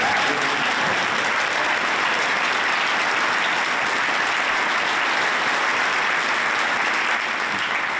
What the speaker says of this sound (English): Please, a huge round of applause for these people who've been here all the festival.